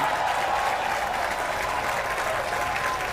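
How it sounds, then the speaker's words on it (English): An audience at a national honours and awards ceremony applauds a 100-year-old honours recipient. The clapping is dense and sustained, a full-room ovation at steady loudness throughout. "And a rousing round of applause for this centenarian."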